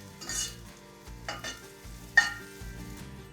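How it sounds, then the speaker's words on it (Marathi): Spring onion sautéing in hot oil in a pan for veg manchow soup, a soft, close sizzle broken by a few spatula stirs and scrapes, without speech. "आणि ह्याला सुद्धा परतून घ्यायचं।"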